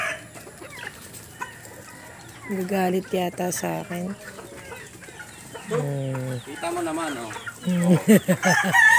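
Chickens cluck and squawk close by in short bursts, with a rooster-like call, while a person talks over them intermittently.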